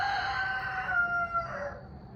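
A flock of rescued battery hens gives a single drawn-out, wavering call that rises and then fades over about two seconds, fairly clear against quiet surroundings.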